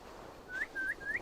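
A character whistles in the video game Assassin's Creed Valhalla, three short rising whistle notes in quick succession, fairly faint over a quiet background.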